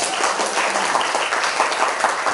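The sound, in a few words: audience applause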